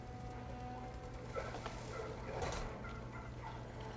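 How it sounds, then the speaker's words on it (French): A turkey gobbles in the video game New World, a rapid warbling call that carries over steady game ambience, with no voices over it. "Une dinde?"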